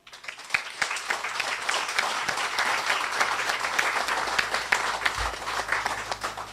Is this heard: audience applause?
yes